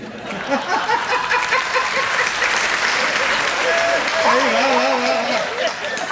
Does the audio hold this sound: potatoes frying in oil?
no